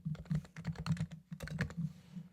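Typing on a computer keyboard while working in Notion: a quick run of close, crisp key clicks in uneven bursts with a brief pause midway, no voice over it.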